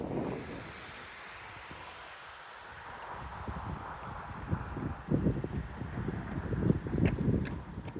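Wind gusts rush and buffet against the microphone during an outdoor run in Honolulu, a steady broadband roar that swells and grows rougher toward the end, with no talking.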